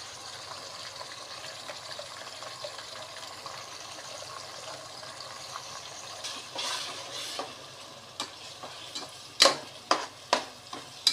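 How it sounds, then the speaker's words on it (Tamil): Chopped small onions, shallots and tomato sautéing in a hot pan for chicken biryani, a steady soft sizzle with a few sharp stirring clicks and scrapes toward the end, close and moderately quiet with no speech. "வணங்கி வரட்டும் பச்சை வாசனை போகிற வரைக்கும் நல்லா வணங்கணும்"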